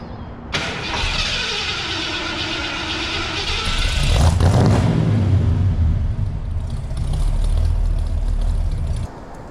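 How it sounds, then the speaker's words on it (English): A Mercury Cougar XR7 with a 351 Windsor V8 cranks with a whining starter for several seconds before catching, then settles into a loud, rumbling idle with a slight rev, close by. "it was a little slow in starting"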